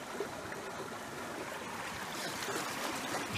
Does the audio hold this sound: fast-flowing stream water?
yes